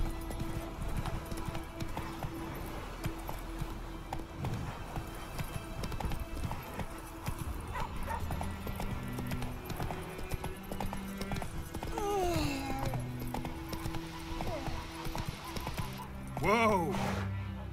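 Rhythmic hoofbeats of the horse Roach galloping in The Witcher 3, a steady clip-clop under game music, with two loud whinnies toward the end.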